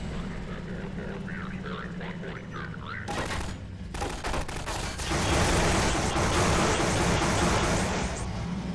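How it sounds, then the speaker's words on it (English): An electric gun fires in Half-Life 2 as bursts of crackling, buzzing shots start about three seconds in and build to dense, loud continuous fire over a low drone. "It appears to be a gun that runs on electricity, not bullets."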